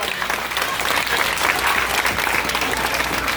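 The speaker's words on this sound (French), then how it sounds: "Si on peut applaudir le Seigneur" A church congregation breaks into dense, sustained applause during a service, many hands clapping together in a steady roar heard from within the room, fairly loud, with faint voices underneath.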